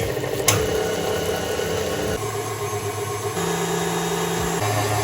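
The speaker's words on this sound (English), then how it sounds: "I'm just going to pop my egg whites onto whisk on a low to medium speed" An electric mixer whisks egg whites for Italian meringue at low to medium speed, giving a steady, close motor whir whose pitch steps up and down a few times.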